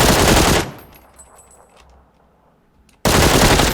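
Automatic gunfire in the video game PUBG: a loud, dense burst opens the clip, a quieter gap follows, then another heavy burst of rapid fire hits sharply near the end.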